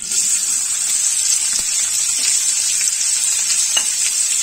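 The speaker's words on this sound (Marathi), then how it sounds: "जिरं फुललं की नंतर मग त्याच्यामध्ये आपण हा कांदा घालूया" Onion sizzles steadily in hot oil with cumin and asafoetida, a continuous, fairly loud frying hiss with a few faint stirring clicks, no talk.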